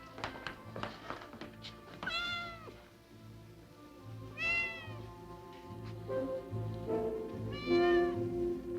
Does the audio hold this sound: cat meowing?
yes